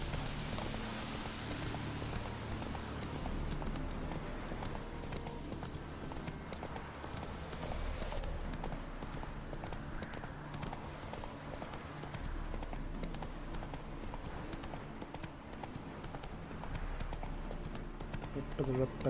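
Rhythmic clip-clop of a horse's hooves at a steady trot at night in the video game The Witcher 3: Wild Hunt, continuing throughout beneath someone talking and a soft background music bed.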